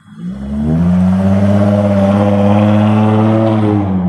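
A loud, sustained engine roar with a steady low hum and harmonic whine, holding strong for several seconds as a car passes close by.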